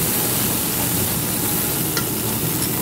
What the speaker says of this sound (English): To our pan again, a little heated oil. We're gonna add some caramelized onions, a little bit of roasted garlic.